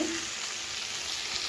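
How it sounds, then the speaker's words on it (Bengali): Cauliflower frying in a pan, a steady close sizzle with a little stirring, heard alone. "একদম মানে ফুলকপি ভাজছি।"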